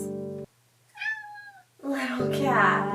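A cat meows close by in a home sewing space, two short drawn-out cries, followed by a person talking over continued sound.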